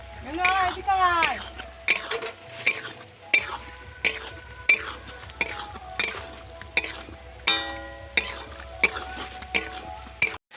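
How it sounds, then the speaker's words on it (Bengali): Hilsa fish head curry with turmeric, salt and chili powder stirred in a pan: repeated clinks and scrapes of a utensil against the pan in a steady rhythm, over faint sizzling, close and fairly loud. "এবার আমি ভালো করে একটু নেড়ে চেড়ে নেবো"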